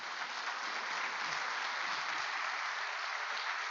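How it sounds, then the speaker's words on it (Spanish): Church congregation applauding steadily and loudly throughout, a dense even clapping with no talk. "Muy fuerte el aplauso para ellos."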